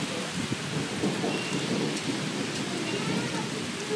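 Torrential summer thunderstorm in Haute-Savoie: heavy rain pours in a dense, steady roar while thunder rumbles low beneath it, loud and continuous throughout.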